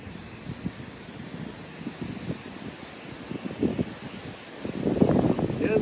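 Wind buffets an outdoor microphone during a roadside motorcycle wiring repair, a steady low rumble with gusts swelling louder near the end.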